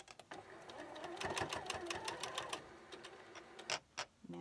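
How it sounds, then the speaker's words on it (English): Sewing machine stitching quilt pieces for an Ohio Star block, a close, steady run of rapid mechanical clatter that starts and stops in short bursts with brief pauses between. "bring it over here, start sewing."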